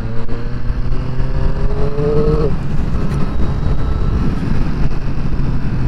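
A Triumph Street Triple RS motorcycle engine roars close and loud during an overtake, its pitch climbing briefly and then falling away under heavy, constant wind rush.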